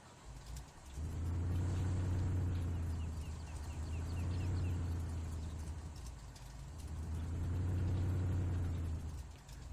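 Collector-condition Shelby Mustang in Farming Simulator 19 easing down a driveway and driving off, a steady low engine rumble swelling and fading in three long waves, loud and close with no talking.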